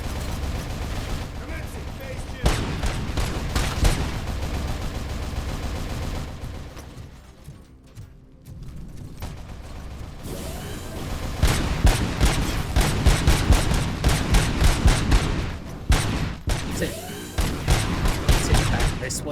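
Heavy, continuous gunfire and booming shots from RoboCop: Rogue City, loud sustained bursts with a quieter dip midway before the firing intensifies again.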